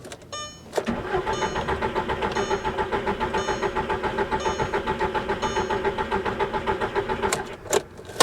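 A hail-damaged Porsche Cayman cranks without catching: a steady, rapid starter whirr runs for several seconds, with a few sharp clicks at the start and end.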